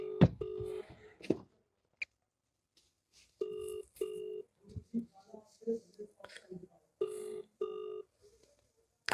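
A call ringtone repeats in short melodic bursts several times with no answer, while someone talks quietly between the rings.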